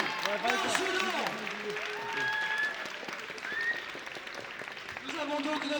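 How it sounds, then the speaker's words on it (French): Applause from an audience at a women's French championship final awards ceremony in Saint-Priest, a steady wash of clapping filling the space, with a voice talking over it and harmonic music-like tones running underneath. "je veux aussi un tonnerre d'applaudissements pour la vice-championne de France, Léa Marcelin."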